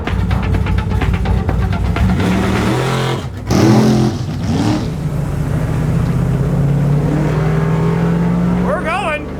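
Screen-used Mystery Machine van accelerating hard down a drag strip, engine roaring loud and close as it climbs through the revs with a gear change, voices talking over the engine noise.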